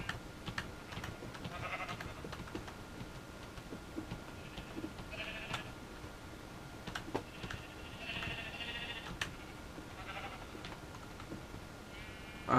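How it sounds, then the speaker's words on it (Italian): Several sheep bleat in short, scattered calls in the video game Minecraft over a quiet background, with faint clicking and tapping in between. "un botto di pecore."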